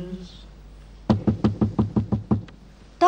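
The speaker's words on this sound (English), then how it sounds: "somebody's knocking on the door" A run of eight evenly spaced knocks on a door, loud and close, in a staged stage performance, preceded by a faint voice and ending on a sudden bright sound.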